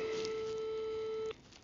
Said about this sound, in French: Première sonnerie.